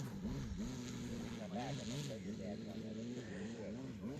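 A large RC airplane's engine hums and warbles in a steady, wavering drone at moderate distance, rising and falling slightly in pitch throughout, with faint talking underneath.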